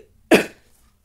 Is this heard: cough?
yes